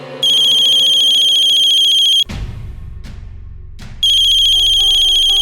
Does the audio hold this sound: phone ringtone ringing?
yes